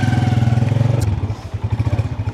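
A motorcycle engine idles close by with a steady pulsing throb, then shifts to a choppier, uneven chug after a brief clatter.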